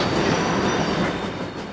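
A railway train rolls past with a dense, continuous rumble and rattle of wheels on track, loud and steady throughout, with no voices.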